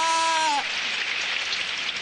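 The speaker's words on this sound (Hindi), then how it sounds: "अरे ये बारिश।" Cartoon rain pours down over a park in a Hindi-dubbed Doraemon episode, a steady hissing downpour that follows a brief voice at the start.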